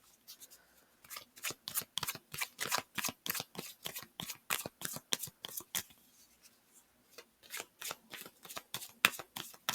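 A tarot deck is shuffled in quick repeated riffles, crisp papery bursts coming in fast rhythmic runs with a brief pause partway through, close and clear with no talking.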